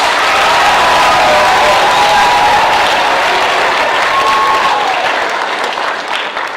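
Middle school crowd at a Pink Out celebration gives Mrs. Knox loud sustained applause, a thick roar of clapping with a faint cheer or whistle, holding strong before thinning out near the end.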